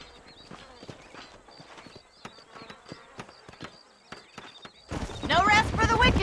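Horse hooves clip-clop at a steady walking rhythm in the Red Dead Redemption video game, moderately close, before a louder burst of wind or movement noise swamps the final second.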